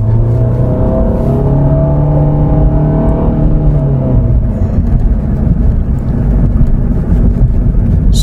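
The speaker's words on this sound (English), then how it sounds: "now to run the test, you want to just start to step into the throttle" A 2018 Honda Fit's 1.5-liter direct-injection engine revs under throttle, a loud, close drone that rises steadily in pitch for about three seconds, then settles into a rough, steady roar.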